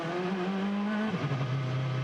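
A 2009 IndyCar race car engine sounds in the pits at Texas, a loud steady drone that drops in pitch partway through, with no talk over it.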